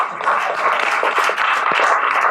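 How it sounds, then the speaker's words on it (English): An audience claps steadily and fairly loudly for a man from the town of Arlington, a dense, continuous round of applause filling the whole moment. "Can we just clap for Ken?"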